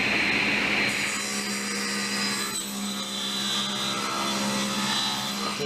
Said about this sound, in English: Now I'm going to take that to the table saw and rip it to 3 wide.